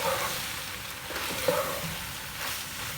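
Boiled macaroni being stirred into keema in a pan, with a soft continuous sizzle and a few light scraping knocks from the spoon, alone and fairly quiet.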